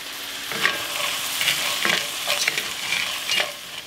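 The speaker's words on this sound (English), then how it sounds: "I'm just gonna add them right to the pan with the onions." Frozen vegetables sizzle and crackle in a hot pan with onions, with a few bursts of stirring and scraping, close and moderately loud, no voices.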